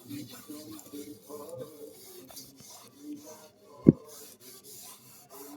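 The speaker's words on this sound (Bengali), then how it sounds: "এই কেরোসিন তেল আর ঘুটের ছাই দিয়ে যদি এইভাবে ঘষে নেওয়া যায় দারুণ কিন্তু পরিষ্কার হয়" An old aluminium utensil is scrubbed by hand with kerosene and dung-cake ash, giving soft intermittent rasping rubs close by, with one sharp knock partway through.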